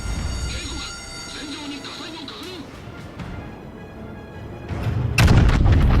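Yamato battleship main guns firing in World of Warships, a heavy deep boom bursting near the end over rumbling game ambience, with someone talking throughout.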